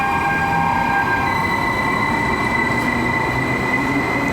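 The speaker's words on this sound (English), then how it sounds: "Here you can see the train going." A train pulling out of a station in Gothenburg, bound for Stockholm, produces a loud, steady rumble with a sustained high metallic whine from the wheels and motors, heard up close without voices.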